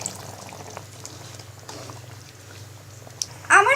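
Chicken noodle soup bubbling in a pot on the stove, a low, steady simmer with soft popping bubbles, close by, ending in a brief louder clatter.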